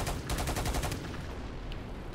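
A quick rapid burst of gunshots from a Battlefield Play4Free weapon, a tight rhythmic string of shots in the first second that then fades into a lingering tail.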